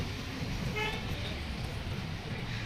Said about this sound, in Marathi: हे ट्रॅफिक एवढं त्याच्यात.